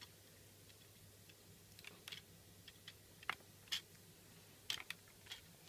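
Keys on a computer keyboard, including the spacebar, are pressed while a Hollywood Poker cassette loads. They give faint, scattered clicks, single and in small clusters, in a quiet room.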